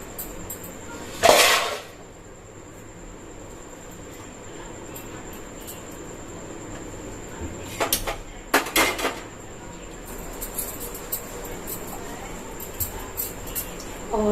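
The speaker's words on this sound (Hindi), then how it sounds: "और साथ ही साथ बर्तन भी खाली कर दूंगी।" Kitchen dishes and steel utensils being emptied and stacked: a loud clatter early on, then quieter bursts of clinks and knocks in clusters later, with short sharp metallic hits over a faint background hum.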